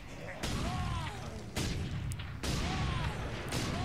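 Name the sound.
gunfire in Warhammer 40,000 Space Marine video game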